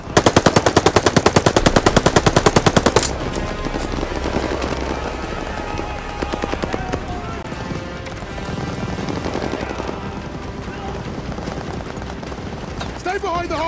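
Rapid machine gun bursts from World War II combat in Call of Duty: Vanguard, loud and continuous for about three seconds, then dense battle noise with scattered gunfire and shouting voices underneath.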